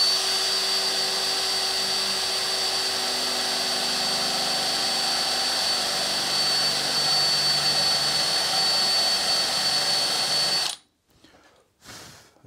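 A power drill bores a countersink into wood for a screw head, running at a loud, continuous high-pitched whine for about ten seconds before stopping abruptly, followed by a short burst and then silence.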